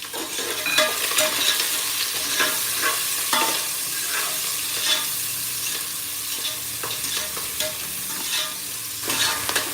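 Onions and curry leaves fry in hot oil with a continuous close sizzle while a utensil stirs them, adding frequent scraping taps throughout, without any talking.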